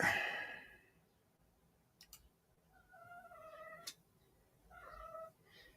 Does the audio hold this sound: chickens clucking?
no